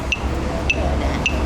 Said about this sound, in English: You stood at a pedestrian crossing and that starts knocking.